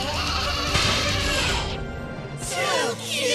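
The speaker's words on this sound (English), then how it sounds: "I'm summoning out two Fluffle Sheep." Cartoon sheep bleating as two Fluffle Sheep are summoned in an anime, a couple of wavering high-pitched bleats, loud and close, with a brief gap between them.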